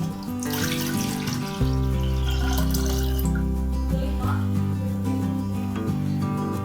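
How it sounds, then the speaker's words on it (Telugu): Water is poured into a clay pot for kodo millet porridge, a steady continuous pour lasting several seconds under sustained background music. "పెట్టుకొని దాంట్లో వాటర్ పోసుకోవాలి."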